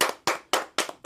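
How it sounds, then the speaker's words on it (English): Four or five sharp hand claps in a quick, even rhythm, close and crisp, with no talking over them. "the clap was small"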